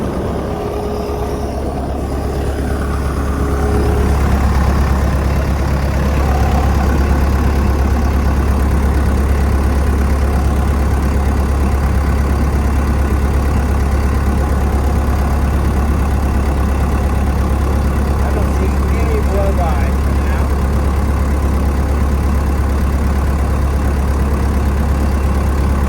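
A Mustang MTL25 tracked compact loader sits idling with a steady, low engine drone and even mechanical hum, close and unchanging for the whole stretch, without talk.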